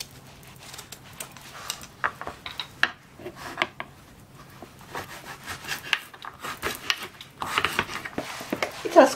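Carrot being finely chopped with a knife, a quiet series of irregular cutting taps and scrapes on a board, clustering into quicker bursts near the end.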